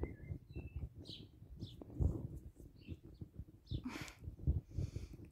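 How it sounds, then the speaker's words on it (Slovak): Thrush calling close by in a garden, a few short chirps and call notes scattered over low background rumble and handling noise. "Drozd už normálne vedľa mňa."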